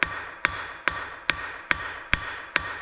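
A hammer strikes steel on the off side of an anvil during forging, seven sharp ringing blows in a steady, even rhythm about every 0.4 seconds, loud and close with a brief metallic ring after each hit.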